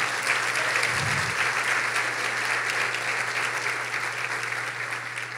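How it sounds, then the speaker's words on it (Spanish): Congregation applause during a church sermon, a continuous wash of many hands clapping at steady loudness, with a low hum underneath and a brief thump near the start. "Dale un aplauso, papá"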